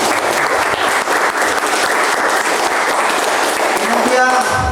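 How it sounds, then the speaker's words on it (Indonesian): Hall of young students at an anti-drug awareness session breaking into sustained, loud applause, clapping dense and steady throughout before easing near the end. "Tepuk tangan dulu"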